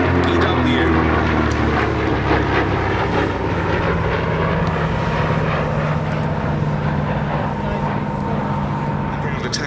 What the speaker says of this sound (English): the Mustang in those very familiar red tail colours and with the name tall in the saddle